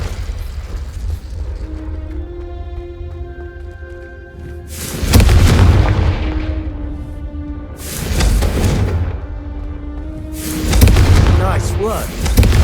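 Confringo explosive spell cast in Hogwarts Legacy, three loud booming blasts spaced a few seconds apart, each a broad burst that fades out, with a faint tonal hum and speech between them.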